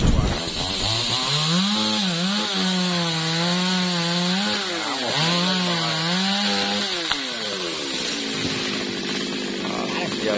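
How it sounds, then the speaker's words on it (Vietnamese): A G4500 chainsaw cuts into a large dipterocarp tree near a market, its engine droning loudly and steadily, rising and dipping in pitch as the chain bites, running continuously for about ten seconds. "Rồi chúng mình cưa nghe các bạn."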